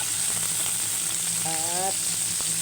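Ingredients sautéing in a pan, a loud, continuous close sizzle and crackle of frying with a faint brief tonal sound partway through.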